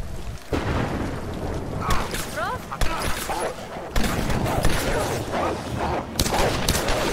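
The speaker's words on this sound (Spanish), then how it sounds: "Esos eso fueron tiros." Gunshots in the Tomb Raider video game, several sharp loud bangs scattered among rumbling booms and clattering action, with a person speaking over part of it.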